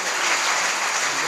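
Audience applause welcoming honoured guests at a religious discourse gathering, a dense, steady burst of clapping from a crowd, heard alone.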